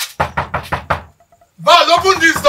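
Five sharp, evenly spaced knocks hit a door close by, then a short pause before a loud, agitated voice starts shouting over it.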